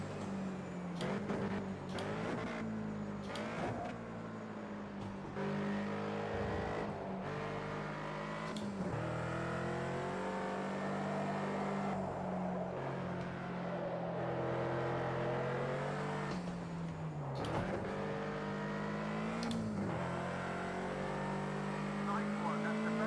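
A race car engine in a racing video game revs and shifts through gears again and again, rising and falling in pitch, with a person talking faintly over it.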